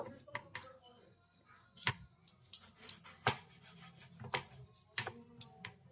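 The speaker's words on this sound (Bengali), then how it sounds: "এবার আমি টমেটোটাকে কেটে নেব" A knife slices through a tomato in a home kitchen, giving a series of short, crisp cutting and tapping strokes at an irregular pace, fairly close and quiet, with light background noise.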